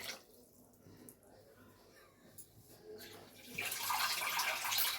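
Water pours into a pan of tilapia fish curry, a sudden rushing splash and hiss that starts partway through after a quiet stretch of low kitchen murmur.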